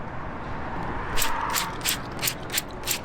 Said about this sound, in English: Got my glue gun.